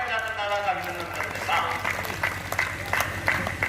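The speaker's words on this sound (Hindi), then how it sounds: "जोरदार तालियां बजाते दादा का अभिनंदन करते" Applause from the audience at a Hindi comedy poetry gathering, moderately loud clapping through the clip with a voice talking over it.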